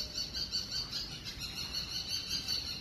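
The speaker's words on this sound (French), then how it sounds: "Vous entendez un petit peu les oiseaux là" Faint high-pitched bird chirps twitter continuously against a quiet outdoor background in Suan Luang Rama IX park.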